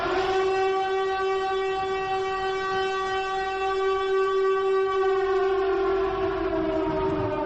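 A loud, sustained siren wail holding one steady droning tone for several seconds, full and close with no other sounds.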